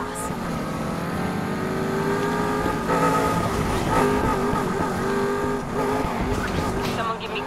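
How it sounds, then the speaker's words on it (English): A loud, steady car engine in Need for Speed: Heat roars continuously, with revving surges and some tire noise, dense and close throughout. "My car's loud AF."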